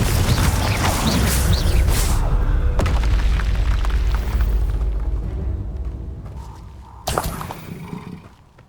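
The Confringo fire spell in Hogwarts Legacy detonates with a deep, rumbling boom that fades out slowly, followed a few seconds later by a second sharp blast.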